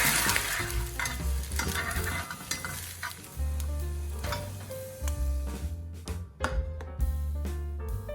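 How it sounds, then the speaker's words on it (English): Beaten egg scrambled in a thoroughly heated frying pan with half a teaspoon of cooking oil, with steady sizzling and intermittent spatula stirring scrapes under background music throughout. "Make some scrambled eggs."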